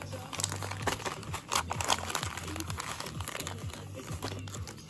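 Naruto Kayou card packs being torn open: brisk, repeated crinkling and ripping of foil wrappers, close and fairly quiet, in a steady run of short bursts.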